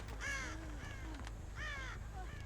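Several crows in the video game Dead by Daylight caw in harsh, repeated calls over a low droning hum, three bursts spaced across a few seconds.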